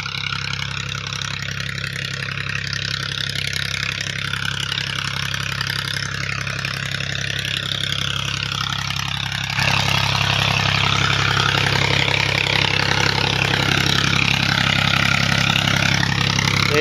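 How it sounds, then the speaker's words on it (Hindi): A Fiat 480 tractor engine driving a tubewell pump runs at a steady idle close by, droning continuously with a slight rise in intensity partway through. "ये चल रहा है ट्यूबवेल"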